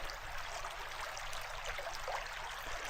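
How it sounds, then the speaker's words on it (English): A creek runs high after heavy rain, with water pouring out of a cave and rushing downstream in a steady, broad wash of flowing noise, close and constant with no voices. "quite a bit of water coming right down the creek"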